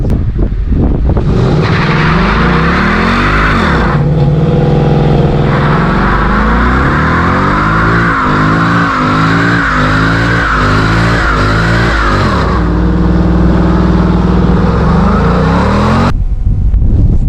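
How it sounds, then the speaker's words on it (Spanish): A Ford Mustang GT with a 5.0 V8 does a burnout, its engine revving hard in repeated rising and falling bursts while the rear tyres squeal and skid, loud and close throughout with no talk. "Pisamos el freno a fondo, el coche detecta que queremos hacer un burnout"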